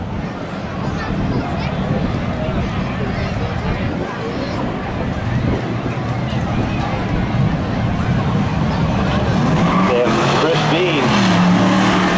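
Third and fourth generation Chevy Camaro race cars roar continuously at a spectator drag race event, loud engine noise filling the clip with crowd babble and an announcer's voice underneath.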